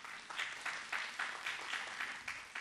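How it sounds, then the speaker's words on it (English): An audience at an investment seminar gives a round of applause, heard as faint, somewhat distant clapping with a loose rhythmic pulse that holds steady for a couple of seconds. "could you give this round of applause"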